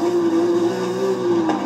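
A high-revving car engine in Forza Horizon 5, a wheelie build over 100, holds a steady loud drone with a constant pitch and slight wavering throughout, no talking.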